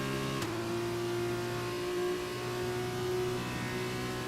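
An F1 car in the video game F1 2021 accelerates with DRS open, a steady high engine whine holding near, continuous and loud after a sharp gear-change transient near the start.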